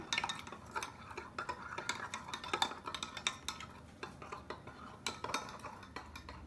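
Quick, repeated clinking and scraping of a utensil against a bowl as batter with water is stirred, irregular but continuous, close by.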